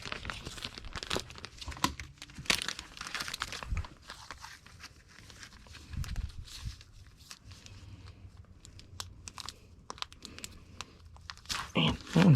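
Comic books slid into a paper envelope, giving close crinkling, rustling and tearing-like paper sounds that come in bursts over several seconds, with faint voice in the background.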